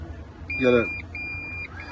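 Two short electronic warning beeps from an electric car, the second a bit longer, with a brief burst of talk in between and a low hum underneath, at an EV show.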